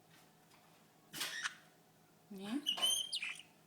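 Pet bird named Kai gives short chirps and squeaky calls in a quiet room, a brief burst followed by a busier cluster of tweets, with a person speaking briefly nearby.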